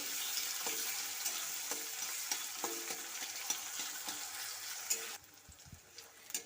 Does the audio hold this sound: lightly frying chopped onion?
yes